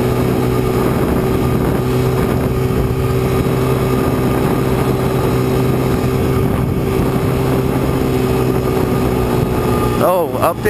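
Dual sport motorcycle engine droning steadily in fifth gear on Arizona single track, a loud continuous hum with wind roar throughout, ending with a brief rising whine near the close.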